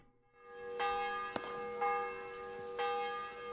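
Church bells ringing in the video game Kingdom Come Deliverance 2, several clear resonant strikes with long sustained overtones, sounding alone with no talk.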